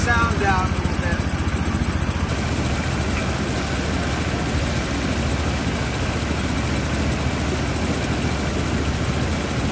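A loud, steady gold dredge engine with a modified exhaust, chugging with a rapid low pulse, rough and continuous throughout, close by with no pauses.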